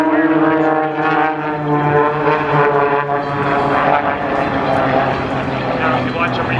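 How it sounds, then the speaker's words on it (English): An aerobatic propeller plane flying in formation at an Independence Day airshow at Battle Creek's field and balloon fest, its engine droning loud and steady throughout with a strong harmonic hum, and an announcer talking over it. "Incredible formation flying out there."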